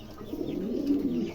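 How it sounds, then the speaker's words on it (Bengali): A pair of large show-quality pigeons coo softly and close by in a short, low, throaty burble, with no talking. "চমৎকার এক জোড়া কবুতর"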